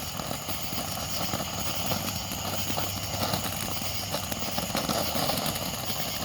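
A Black Cat firework fountain burns outdoors with a steady, dense crackling hiss that stays constant and fairly loud, with no break and no talking.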